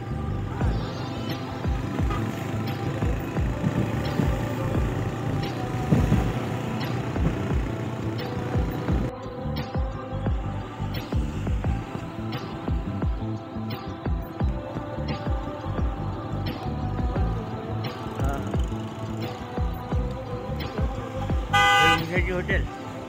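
Heavy road traffic in Pune, with a steady rumble and throb of engines and repeated car horn toots, some near and some farther off, mixed with voices talking.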